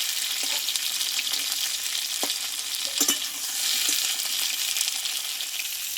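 Pointed gourd frying in a pan, a constant hissing sizzle with several light scrapes and taps of a spatula stirring the pieces.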